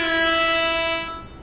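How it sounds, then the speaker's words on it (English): A train air horn in the railroad video game Railroader sounds one sustained, loud, harmonic blast that holds steady before tapering off at the end, heard alone. "I can hear you playing the duck and the air horn"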